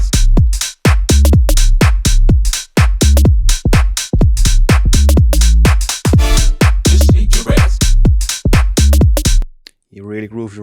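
A punchy synth bass preset built in Vital with overdrive and OTT compression plays a rapid, bouncy rhythmic pattern of loud plucked notes, then cuts out near the end into a brief wobbling tail.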